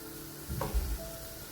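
Onions sliding into hot oil in a pan for browning give a soft, steady sizzle with a brief louder burst and low clunk as they hit, close by and fairly quiet.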